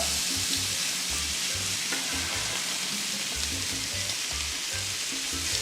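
Meat sizzles and crackles in a hot pan, a dense continuous frying hiss with steady spitting close up and no one speaking.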